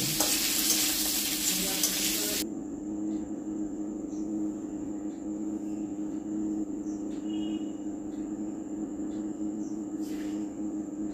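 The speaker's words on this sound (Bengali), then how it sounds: "আধ ভাজা মতন সব একটু তেলের ভালো করে নেড়াচড়া করে ভেজে নিলে" Loud sizzling of vegetables frying in oil for a couple of seconds, then it drops to a low hum with faint ticks and clicks.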